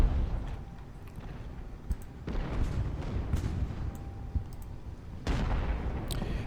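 Artillery firing in Ultimate Admiral: Age of Sail, a land battle with cannons booming at irregular intervals, several loud thuds and distant reports over a rumbling battlefield background with scattered clicks.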